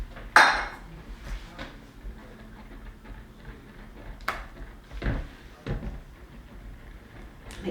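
Stirring fragrance oil into cold process soap batter in a container, with scattered clinks and scrapes of a utensil against the vessel, a couple of sharper knocks standing out over a quiet background.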